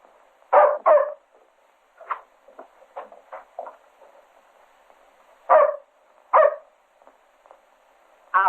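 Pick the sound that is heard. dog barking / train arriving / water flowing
dog barking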